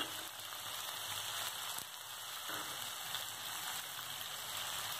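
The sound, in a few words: chopped onion frying in hot oil with nigella seeds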